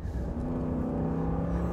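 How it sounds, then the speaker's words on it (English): A 2023 Ram 2500 Rebel heavy-duty pickup with a V8 engine gives off a steady, loud, low drone with a faint whir, holding an even level under hard acceleration throughout. "That V8 roars."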